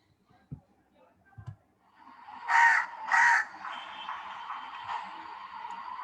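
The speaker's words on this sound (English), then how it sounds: "Whose sound it is? Crow." A recorded crow gives two loud harsh caws in quick succession, then a lingering hiss of playback noise; a few faint thumps come before, and a voice speaks briefly nearby.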